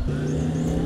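A Bugatti Veyron's engine in a zombie video game hums at a steady, loud, sustained drone, one continuous tone with no voices over it.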